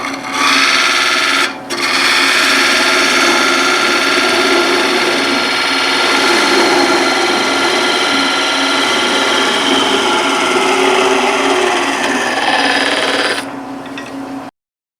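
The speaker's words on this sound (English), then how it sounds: "we're going to cut this end off here." A power tool cutting the end off a piece of sycamore wood, a loud continuous grinding and whirring rasp held for most of the stretch with a brief dip near the start, close by, then abruptly cut off.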